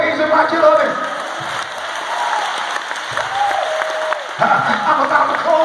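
Church congregation clapping their hands in praise during a sermon, a dense, loud, continuous wash of applause with a crowd and voices mixed in throughout.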